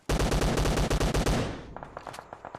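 Rapid automatic fire from a Beryl rifle in PUBG Mobile, a loud, fast burst of about a dozen evenly spaced shots lasting just over a second, then fading into quieter scattered game sounds.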